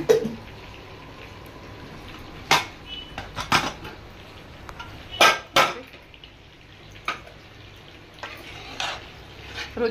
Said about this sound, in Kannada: ಇವಾಗ ಕುಕ್ಕರ್ ಲಿಡ್ ಓಪನ್ ಮಾಡ್ತಾ ಇದ್ದೀನಿ